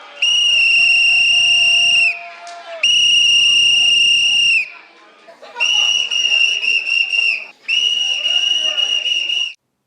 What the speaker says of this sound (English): generally, he blew a whistle.